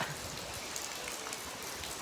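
Rain falls steadily, a soft, even patter on surfaces with no pauses and no voices.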